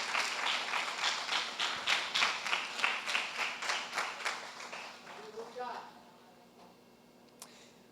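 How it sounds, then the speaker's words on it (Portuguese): A standing church congregation claps in an even, rhythmic beat for several seconds before the clapping fades. A voice then begins speaking over a quiet room. "Fica de pé aplaudindo ao Senhor Jesus"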